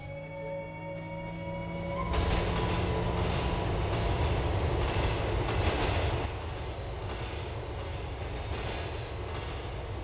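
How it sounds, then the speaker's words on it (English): Train in GTA 4 rolls along the rails through Liberty City, a tonal hum giving way to loud rumbling wheel noise and rhythmic clatter that stays steady and close, no talk. "And what do you guys think about the whole train station ride?"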